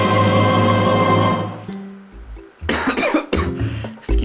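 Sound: cough

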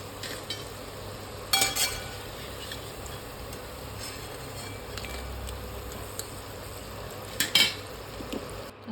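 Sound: frying spring onion bhaji in oil

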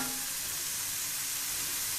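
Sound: vegetables frying in oil with a little water added

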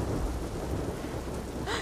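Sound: heavy rain and thunder in video game The Last of Us Part II

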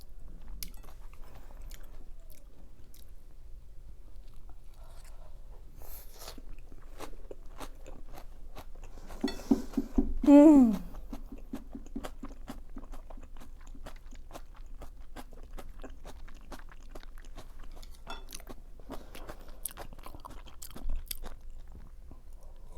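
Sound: chewing kimchi pancake

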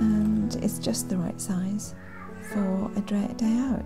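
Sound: cat meowing in the background

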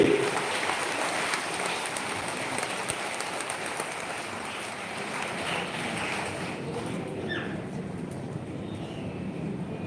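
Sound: audience applause

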